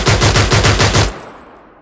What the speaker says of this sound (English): the German MG08 machine gun